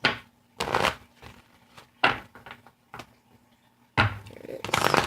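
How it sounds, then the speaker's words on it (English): An oracle card deck is shuffled and a card pulled, giving bursts of riffling and slapping card noise in several short bouts, close and fairly loud, with a voice speaking softly between. "Alright, I'm going to pull you one of these cards."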